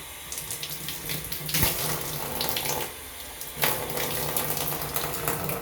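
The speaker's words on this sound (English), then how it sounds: "Since I did that, I need to rinse it one more time." Running water rinsing a bathtub, a steady close gush from the tap splashing against the tub surface, with brief surges and shifts in flow and no voices.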